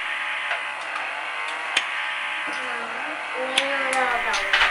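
A small electric pore vacuum for blackhead removal running on its lowest level whirs with a steady high-pitched hum, with faint background voices and a few light clicks.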